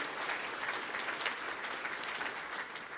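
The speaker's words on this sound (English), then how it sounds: "Give yourself a round of applause." Church congregation applause during a Sunday service, a steady wash of many hands clapping, moderately distant and even for a few seconds with no voices over it.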